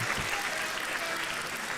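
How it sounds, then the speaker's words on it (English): A crowd at a squash semi-final of the 2024 Cape Town Squash Open cheers and applauds loudly and steadily, a dense wash of clapping and raised voices filling the whole moment. "the crowd raising their voice to meet the quality of Fuller's finish"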